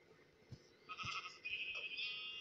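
A sheep bleats in the Minecraft video game, a soft click and thump first, then a wavering drawn-out bleat followed by a second, longer one, clear and close with no talk.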